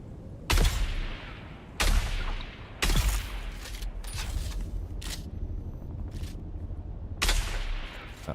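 Turret gunfire in Dune: Awakening comes as sharp, loud single shots spaced a second or so apart, with several fainter cracks and a low mechanical rumble filling the gaps and no talk over it.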